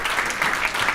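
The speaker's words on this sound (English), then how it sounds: "So get ready for the applause." Audience applause at a technical software deep-dive presentation, a brief steady wash of clapping lasting about a second at moderate level.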